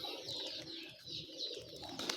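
Several pigeons coo repeatedly at close range, soft rolling calls overlapping in a steady rhythm among a flock kept by a pigeon fancier, with light rustling and faint chirps mixed in.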